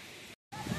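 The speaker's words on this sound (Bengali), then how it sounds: "এই হলো ফিফি ফলস" Phe Phe Falls, a waterfall in Meghalaya, gives a steady, broad rushing roar that fills the clip, broken by a brief dropout to silence before it resumes.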